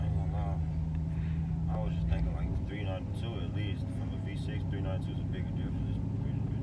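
A 2020 Dodge Challenger with a 5.7 V8 rumbles low and steady from inside the car, the engine note shifting as it downshifts, while people talk over it.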